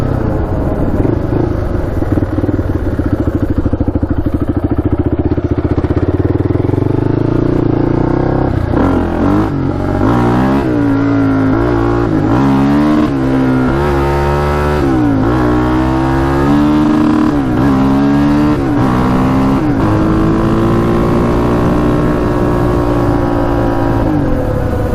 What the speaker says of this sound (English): Look how fast it gets to that rev limiter.